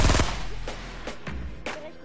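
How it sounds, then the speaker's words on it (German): Gunfire in a battle royale video game aimed at a tomato: one loud opening burst, then a few sharper shots spaced through the rest, close and punchy. "Ich schieß die Tomate kaputt."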